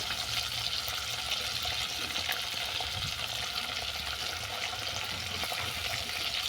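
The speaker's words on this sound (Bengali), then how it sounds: "আমি ইলিশ মাছটাকে হালকা করে ভেজে নামিয়ে নিচ্ছি" Hilsa fish frying lightly in oil gives a steady, dense sizzle with fine crackling that holds at an even level throughout, close up, with no voices.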